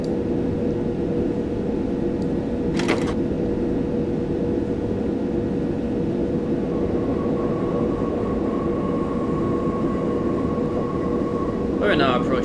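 A train running toward Euston Junction in Train Simulator 2020, a steady loud rumbling drone with a faint tonal whine, and two brief sharp bursts near the start and end.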